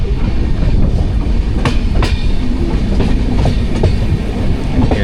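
The Somnath–Okha Express rolls along the rails with a loud, continuous rumble and a few sharp clicks and knocks from the wheels over joints, heard from inside the coach without talk.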